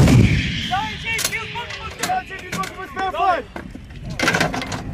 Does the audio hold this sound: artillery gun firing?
yes